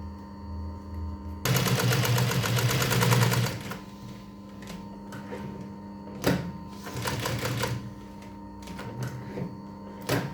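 A Pfaff 1242 twin-needle sewing machine rattles through a quick run of stitching, then pauses and restarts in shorter bursts over a faint steady hum.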